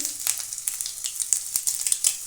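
Fennel seeds hit hot oil in a pan, a bright, loud, close crackling sizzle with quick popping bursts throughout, no talking.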